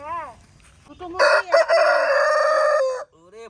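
A huge Patnai rooster crows once, close and loud, in a long sustained cock-a-doodle-doo, with a person speaking just before and after.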